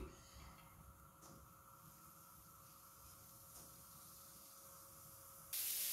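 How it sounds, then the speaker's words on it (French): Two large sliced onions fry in a little olive oil in a pan, giving a faint, even hiss that runs unbroken throughout. "pendant que les oignons cuisent"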